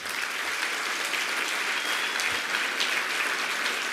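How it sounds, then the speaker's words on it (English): Audience clapping for competition teams, a steady, dense round of applause from a sizable crowd, fairly close and sustained for several seconds with no speech. "let's give a big round of applause to all the teams"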